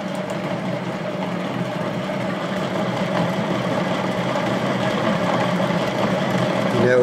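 Bedini SG motor with a large comparator, its wheel spinning up to about 316 RPM, gives a steady whirring mechanical hum with a faint tonal whine, constant and close throughout, slightly louder toward the end.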